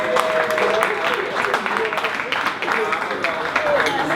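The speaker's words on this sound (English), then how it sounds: "Give them another round of applause." An audience at a business summit gives a sustained round of applause, a dense, steady wash of many hands clapping close by that keeps going at an even level with voices mixed in.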